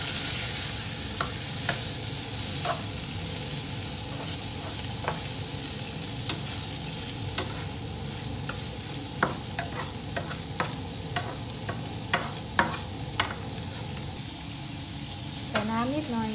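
Pork sizzles and is stirred in a hot pan for Thai fried rice, a steady frying crackle with repeated spatula scrapes and clinks throughout, close and loud with no talking.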